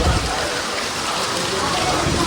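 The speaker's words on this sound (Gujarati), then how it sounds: "એટલે ફૂલ વરસાદ ચાલુ છે" Heavy, steady rain pours down in a village during a family outing, a dense continuous hiss close by with a low rumble underneath, drowning out other sound for the whole stretch.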